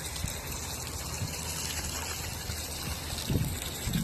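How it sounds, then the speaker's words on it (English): Water poured over new roof flashing trickles and gushes steadily, running underneath and dribbling out at the end, with a few louder splashes near the close; no one talks over it. "Okay, so I'm pouring this back here where water would hit, right?"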